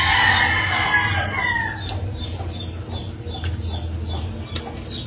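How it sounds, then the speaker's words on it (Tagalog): A rooster crows once, loud and close, its call falling in pitch before fading into a low background rumble with faint clicks. "Manok."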